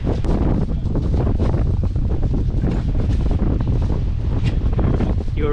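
Strong wind buffets the microphone aboard a fishing boat on rough open seas, a loud, constant roar with rushing water beneath it and no pause throughout.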